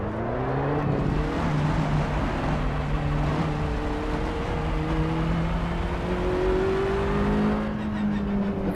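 Race car engine in the Project Cars video game, a continuous droning engine note rising and falling in pitch through gear changes, loud and steady with road noise underneath.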